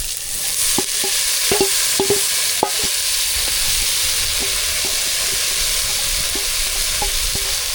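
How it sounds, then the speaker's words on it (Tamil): Banana flower sautéing in oil in a pan, a steady loud sizzle broken by repeated light scraping and clinking of a spatula stirring against the metal. "சேர்த்து நல்லா எண்ணெயிலே வதக்கிடுங்க"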